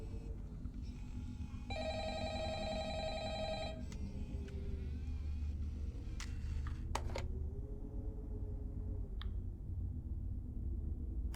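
A distorted, glitchy telephone ringtone from the video game FNAF Help Wanted rings in a burst of harsh buzzing tones, followed by scattered clicks and bumps over a low background hum.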